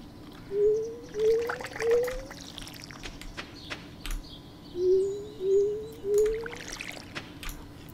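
A watering can splashes water over crops in the Stardew Valley farming game, making short rising trickle-and-pour sounds in two groups of three with quiet ambience in between.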